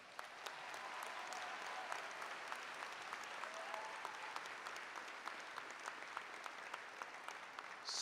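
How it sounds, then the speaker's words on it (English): Steady audience applause at a church gathering, a dense wash of many hands clapping at moderate distance, continuous and even throughout with no voices standing out. "I think you should give yourselves all a round of applause"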